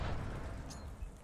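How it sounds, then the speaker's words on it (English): A Semtex grenade detonates in Call of Duty as a dense, low, rumbling boom that fills the whole moment at steady loudness, with no voices over it. "Incoming Semtex!"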